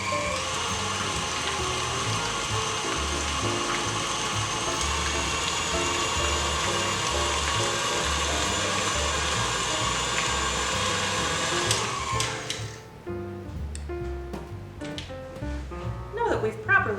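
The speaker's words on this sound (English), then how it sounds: "If not, go ahead with your mixer." An electric mixer with beaters stirs cheese for a holiday cheese ball, giving a steady loud whir for about twelve seconds before it stops, then faint scraping and handling sounds. A voice talks over parts of it.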